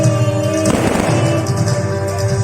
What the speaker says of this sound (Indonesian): Ini kok ada kembang api?